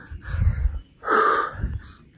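Heavy, rasping breaths follow a short, strenuous indoor training session by someone ill with COVID, with two or three loud wheezing gasps close to the listener and no talking.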